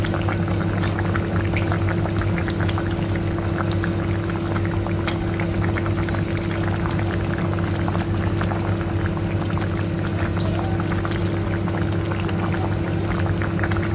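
A pot of bean and fish curry boiling steadily, made with flat beans and small fish, giving a continuous bubbling, simmering hiss with a low steady hum underneath, close and even throughout.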